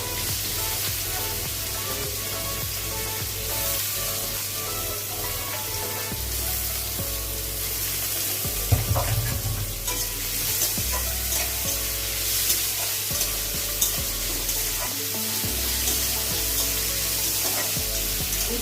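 Sliced beetroot and carrots fry in hot oil in a wok for chowmein, a constant close sizzle with occasional scraping and stirring clatter, no voices.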